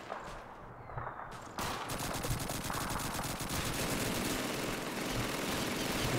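An MG42 machine gun fires in the Call of Duty 2 video game, a loud, continuous rapid rattle of closely spaced shots that rises after a brief quieter opening and carries on steadily to the end.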